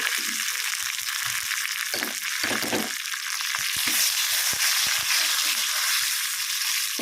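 Curry leaves and asafoetida spluttering in hot oil for a tempering, a loud continuous close sizzle with sharp crackles and pops throughout, with no talk.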